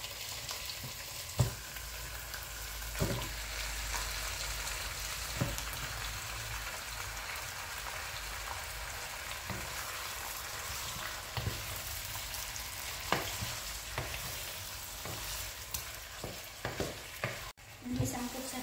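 Chicken and garlic sizzle in a pan for tinola chicken soup, a steady bright crackle broken by sharp clicks and knocks of stirring, close and fairly quiet with no talking.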